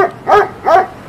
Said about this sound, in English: we're a little bit concerned about this dog